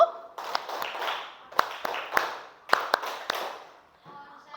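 Groups of sharp hand claps punctuate a rhythmic chant in a Hindu religion classroom, with chanting voices between the clap clusters.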